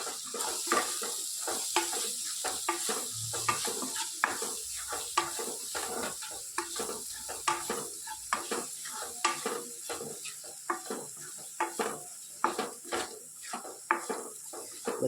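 Spices and gram flour roasting in oil, stirred with a utensil scraping the pot in quick irregular strokes over a soft, faint sizzle, the clacks and scrapes coming close and steady throughout.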